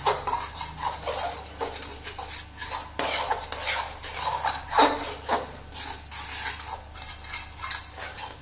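Sweet potato roasts in ghee while a utensil scrapes and clatters rhythmically against the pan, the stirring close and busy over a faint low sizzle.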